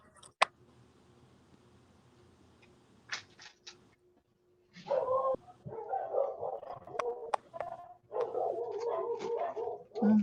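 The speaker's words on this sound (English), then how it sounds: "Do you hear the satanic dog?" A dog barks in repeated bursts from nearby, loud and irregular, during a yard sale, with soft clicks and faint background noise between.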